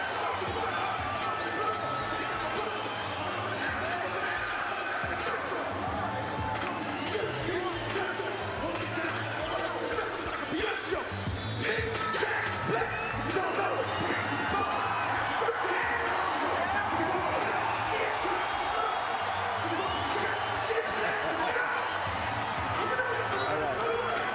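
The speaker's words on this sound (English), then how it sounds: "the storm warning for Hall is being sounded by the crowd as Jones arrives at ringside" A boxing arena crowd roars and cheers steadily as Roy Jones reaches ringside, a dense, sustained wash of voices and whoops under a ringside commentator's continuous talk.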